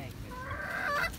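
Cochin bantam chickens cluck close by in a field, a run of short nasal calls rising in pitch and overlapping near the end.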